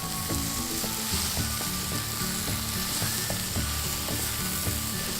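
Eggplant stir-fries on high heat for sweet and sour eggplant with basil: a loud, continuous close-up sizzle with light rhythmic stirring clinks, no talking.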